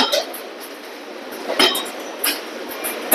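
Metal wire springs drop through a sorting chute at an automated spring-making machine, giving a few bright, sharp clinks separated by short gaps against a low steady mechanical hum.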